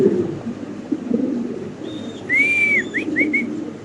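At a pigeon farm, a male Mundian pigeon calls nearby, a few short whistled notes rising over a soft, low background murmur.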